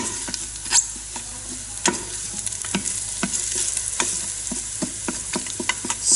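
Coriander rice being stirred in a pan: a spoon scrapes and taps repeatedly at an uneven pace over a steady close sizzle, with no voices.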